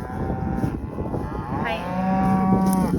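Heifers moo loudly and repeatedly, calling out to bulls that have returned to summer pasture with the cows during a cattle weaning week; the long, drawn-out bellows rise over outdoor ranch ambience and a brief spoken greeting.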